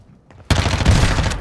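Loud burst of video game gunfire erupts after a half-second of near silence and keeps going as dense, continuous automatic fire in a battle royale match, close and harsh with no pauses.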